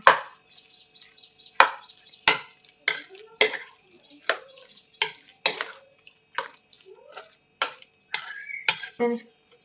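A spoon stirs curd and water together in a bowl, sounding as a run of sharp, close clinks and taps against the dish with small wet swishes in between, and no voices.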